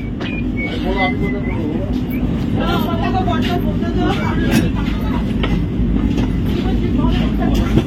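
A steady low rumble of a moving Vande Bharat train carriage fills the space, with people talking over the continuous rattling drone.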